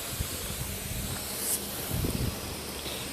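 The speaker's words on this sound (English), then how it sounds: "get your hose pipe and just wet the van down" Garden hose spraying water over a van, a soft steady hiss of water hitting the panels, fairly faint and continuous with slight rustling.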